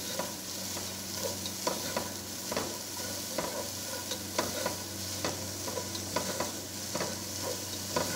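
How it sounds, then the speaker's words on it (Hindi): Carrot and cabbage sauté in a pan for hot and sour vegetable soup, giving a dense, continuous sizzle. A spatula scrapes and stirs through it in repeated, fairly regular strokes, close up and with no voices. "इसमें जो गाजर है वो डाल देंगे और बंद गोभी डाल देंगे"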